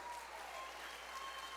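A church congregation breaks into a brief, dense burst of applause, a steady wash of many hands clapping together in a large room.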